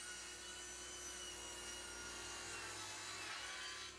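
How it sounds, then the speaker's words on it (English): Wooden boards cut on a table saw with a miter gauge, a steady faint whirring and rasping cut that runs unbroken for the whole few seconds. "I can cut them down using the miter gauge and the table saw"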